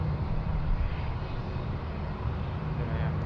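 A Jetstar airliner at Sydney Airport gives a steady, loud engine roar that holds evenly throughout, broad and continuous with no other distinct sounds over it.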